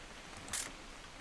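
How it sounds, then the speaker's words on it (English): A camera shutter snaps once in the video game What Remains of Edith Finch, a short bright click standing out over a quiet ambient background. "Just want to get a shot of you, Dawn"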